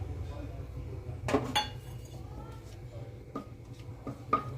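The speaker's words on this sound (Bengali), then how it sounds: "দিয়ে ভালোভাবে একসাথে নাড়াচাড়া করে নিলাম" Whole spices (bay leaf, cloves, cardamom, cinnamon) stirred in a hot pot on a low flame, sparse metallic clinks and scrapes of a spoon against the pan over a low steady hum.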